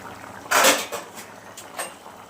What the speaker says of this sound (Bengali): আমি এবার ঢাকনাটা খুলে দেখি